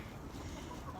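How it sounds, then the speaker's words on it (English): Backyard homestead hens cluck softly in a brief, faint burst at feeding time, with low murmuring calls close by. "I am going to be feeding my hens."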